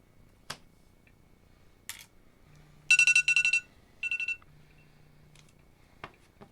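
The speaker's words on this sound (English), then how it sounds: "alarm goes off at 8:30" An alarm beeps in two quick clusters of rapid electronic tones during a tabletop card game, with a few soft taps and clicks around it in an otherwise quiet room.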